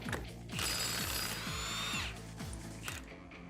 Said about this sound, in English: grab a 27mm and remove our nut off of our axle